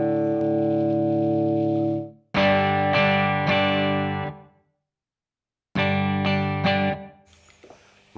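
Electric guitar through a BOSS SD-1 overdrive pedal with the drive almost at zero and the tone set to the middle: loud, mildly crunchy sustained chords and struck notes ring out, then a silent pause before more chords.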